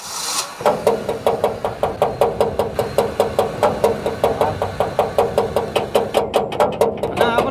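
A badly damaged car engine, failed again after a fan belt repair, runs with a loud, regular metallic knock repeating about four times a second over a rough idle, close and steady throughout.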